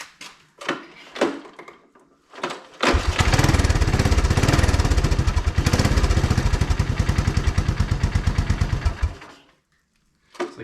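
Honda ATC185 three-wheeler engine running rich: a few short sputtering attempts, then a loud rough revving run with fast uneven firing pulses for about six seconds before it cuts out, followed by near silence.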